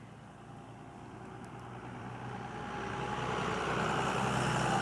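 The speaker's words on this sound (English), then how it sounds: "There's a loud truck coming by." A loud truck draws closer on an outdoor road, its broad rumble and traffic roar building steadily to a peak over a few seconds, with no talking.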